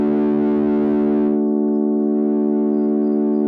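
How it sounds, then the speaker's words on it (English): Sequential Prophet 6 synthesizer playing a sustained, harmonically rich distorted tone, dense bright overtones thinning after about a second and a half while the steady note holds alone, with no talking. "this distortion comes in fantastically well if you want to make really powerful, hardcore sounds"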